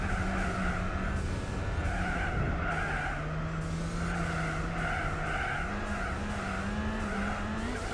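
A car's engine in Gran Turismo 4 strains to keep its revs up, droning and wavering in pitch under continuous tire skidding and squealing, loud and steady throughout.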